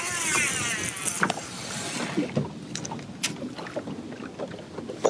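Bass fishing boat idling on a lake while circling over ledges, a steady low engine rumble under wind buffeting on the microphone, with a few light knocks and splashes near the hull.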